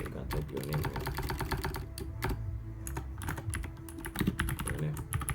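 Fingers type a name on a computer keyboard in a quick, uneven run of close, crisp key clicks, with a voice faintly underneath near the start.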